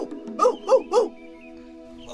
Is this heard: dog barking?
yes